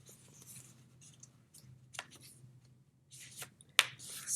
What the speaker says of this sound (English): Fold it in half this way